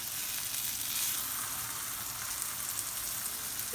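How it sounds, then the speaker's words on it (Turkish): Two homemade hamburger patties sizzle and fry in a preheated pan, a steady close crackling hiss that runs the whole time with no talking. "Köftem kızarıyor."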